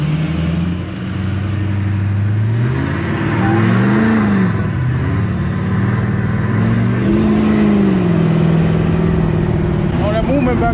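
LBZ Duramax diesel pickup with a 5-inch exhaust routed to a bed stack, revving in low rising and falling swells over a steady deep idle, loud and close, with voices talking over it.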